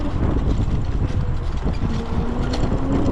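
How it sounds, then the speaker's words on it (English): Riding noise from a TIFGALOP K8 electric scooter captured on a GoPro: continuous low rumble and rattling with heavy wind buffeting across the mic and a faint steady motor whine, no voices. "this clip is a really good clip to show all the K8's noises"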